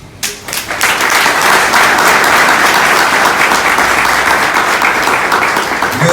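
Loud, sustained applause from a large audience at a French-speaking commemorative event, a brief quiet moment before the dense clapping swells up and holds at full strength throughout.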